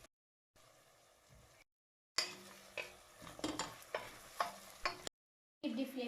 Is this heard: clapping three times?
no